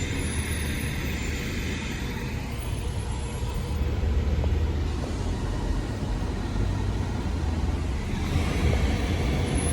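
Traffic on a Dallas road, heard from inside a vehicle, with a bus passing slowly: a continuous, fairly loud low rumble of engines and tyres that swells slightly midway, with no talking.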